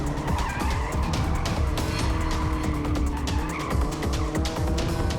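A drifting car's tires howl and chatter in a continuous loud screech while the engine roars underneath, the squeal fluctuating through a fast timed drift run.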